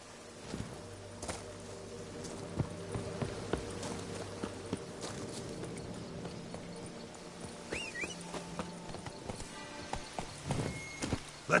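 Hooves of Roach, a horse in The Witcher 3, clip-clop steadily at a walk, close and fairly quiet, with a short whinny near the end and no talking.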